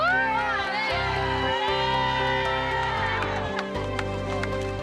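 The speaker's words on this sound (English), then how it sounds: "Give yourselves a cheer." A group cheers and whoops outdoors in the Swiss Alps, with loud, sustained crowd shouting and whooping mixed with music throughout.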